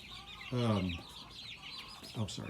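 Three-week-old Red Ranger roosters give a couple of short clucking calls, separated by a pause, over a faint, noisy farmyard background.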